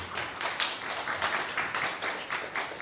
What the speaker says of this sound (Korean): 연주를 들려주신 박이슬 연주자님께 다시 한번 박수 부탁드립니다.